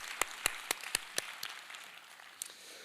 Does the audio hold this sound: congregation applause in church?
yes